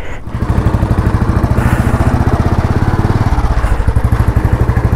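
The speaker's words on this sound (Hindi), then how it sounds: "ये खड़ी है मेरी बाइक, ये खड़ी कोविद की बाइक और अब हम यहाँ से निकल रहे हैं" A motorcycle engine runs steadily close by as riders set off from a halt on the Badrinath pilgrimage route in Uttarakhand, a loud, even putter that shifts slightly in pitch partway through.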